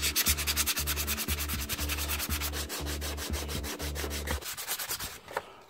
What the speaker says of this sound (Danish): Så vi skal lige slive ned, sådan, så vi kan male det igen, sådan, så vi får en, en glat overflade